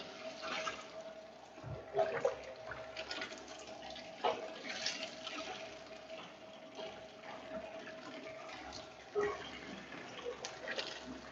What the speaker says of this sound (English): So you just take the stock and you just pour directly into the lid.